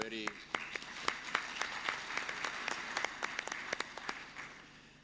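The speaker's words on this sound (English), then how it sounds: "please join me in the first round of applause for all the panelists" Scattered clapping from a panel audience at an evaluation conference plenary, a few distinct claps that thin out and fade over several seconds, fairly quiet in a large room.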